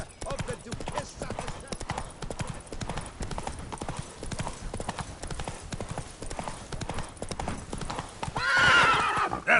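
Roach the horse gallops with a steady drum of hooves in The Witcher 3, then gives a loud neigh near the end, and a voice speaks over the hoofbeats.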